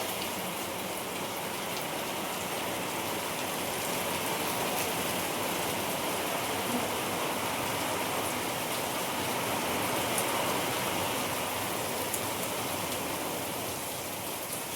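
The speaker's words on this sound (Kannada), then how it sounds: "ಪಂಚಮಿ ಹಬ್ಬದ ದಿನ ಮಳೆ ಬರಾಗದೈತಿ ನೋಡ್ರಿ." Steady rain falls on a Panchami festival day, a dense, even hiss of drops pattering on surfaces that holds at constant loudness throughout, with no voices.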